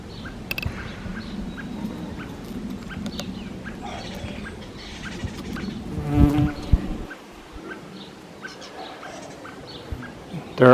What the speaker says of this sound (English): a female Tawny Mining Bee